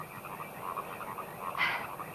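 Frogs croaking at night in a steady chorus of repeated pulsing calls, with one louder, closer croak standing out near the end.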